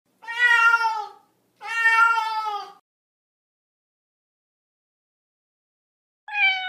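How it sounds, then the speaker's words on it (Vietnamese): A domestic cat meows clearly three times, with two long, drawn-out calls followed by a short one after a long silence. The cries are close and loud, with nothing else in the background. "Mèo có khả năng bắt chuột rất tài."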